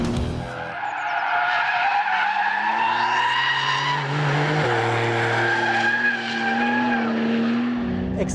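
A Porsche 992 Turbo S holds a long drift, its tires squealing continuously in a loud, wavering howl over the rising and falling engine note, with the pitch stepping down briefly before the slide ends.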